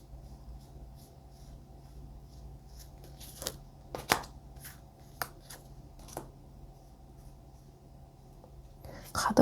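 New, stiff tarot cards are shuffled and drawn by hand, making soft rustling and sliding under a quiet room hum, with a few sharper slaps and flicks standing out near the middle and end.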